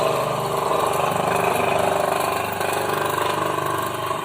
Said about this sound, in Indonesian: Dapat terlihat motor berjalan dengan sempurna.